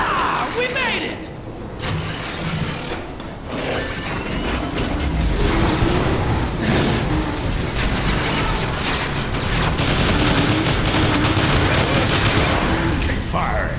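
Dense, continuous gunfire and mechanical clatter from the video game Transformers: War for Cybertron, loud and sustained throughout, mixed with game effects and voices.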